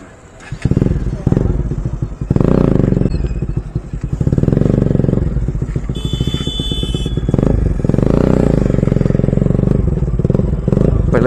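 A Bajaj Pulsar NS200 motorcycle fitted with a leg guard rides on the road, its engine droning loud and close with changing revs while someone talks over it.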